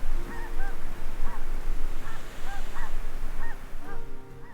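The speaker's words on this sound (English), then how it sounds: "Kind of sounds like geese." Geese honk repeatedly at night in a snowy wilderness near South Lake Tahoe, several calls in loose clusters from a distance over a steady background hiss.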